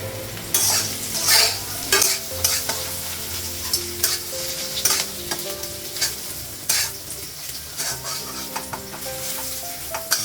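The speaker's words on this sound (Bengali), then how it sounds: "সয়াবিনটা সিদ্ধ করে নিচ্ছি, ভেজে নিচ্ছি।" Soybean chunks frying in oil in a wok at home while being stirred, with steady close sizzling and repeated scraping, clattering strokes of a spatula against the metal pan, alone without talk.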